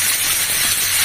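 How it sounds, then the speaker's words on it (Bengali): Hot water poured into a pan of frying katla fish kalia, giving a loud, steady sizzling hiss that fills the whole moment, close and without voices. "গরম জলটা দিয়ে দিচ্ছি"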